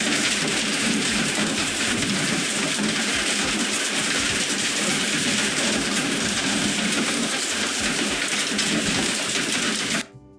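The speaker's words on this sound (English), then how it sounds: "For example, rain on a tin roof." Steady, dense patter of AI-generated rain drumming on a tin roof, loud and continuous for about ten seconds before cutting off abruptly, with no voices.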